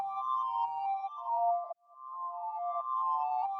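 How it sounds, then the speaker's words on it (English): Reversed, octave-up shimmer reverb effect from the BABY Audio Spaced Out plugin, a smooth sustained tonal wash that swells, cuts off abruptly halfway, then returns, soft and alone with no talk. "taking that sound and reversing it, along with kind of a whole bunch of other stuff to kind of get these crazy reverse sounds"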